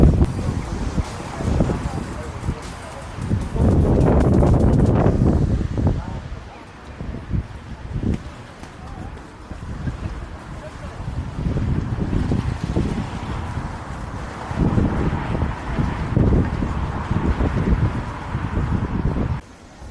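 Blustery wind on the lake shore at Bowness on Windermere in cold, wet weather, buffeting the microphone in loud irregular gusts, with a voice talking at times.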